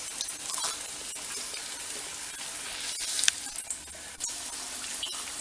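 Chettinad-style banana flower pakoda fry in hot oil, giving a steady bright sizzle with occasional scrapes and clicks as the fritters are turned. The sound is close and continuous, with no talking.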